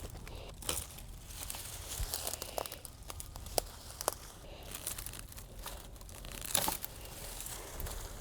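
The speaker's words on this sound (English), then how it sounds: "First thing we're going to do is just cut all the branches off to expose the stems that are still left that are in the ground." Branches snap and foliage rustles as a Japanese privet shrub is cut back, a faint, steady crinkling with scattered sharp clicks and cracks, no voices.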